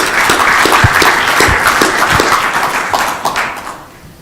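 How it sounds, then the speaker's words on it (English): Audience applause for a speaker at an urban mobility lecture: a dense, loud burst of many hands clapping that continues steadily and then tapers off toward the end, with no talking over it. "Give her a round of applause again."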